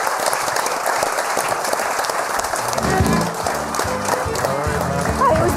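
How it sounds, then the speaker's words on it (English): An audience applauds for Mickey, a Steelers fan brought up on stage, with sustained loud clapping and cheering, joined partway through by a thumping music beat underneath. "Let's give him a big round of applause."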